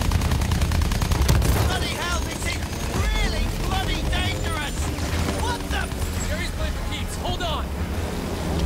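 Rapid bursts of gunfire and explosions fill a Battlefield 1 match, loud and chaotic over a roaring battlefield din, with someone talking over the shooting.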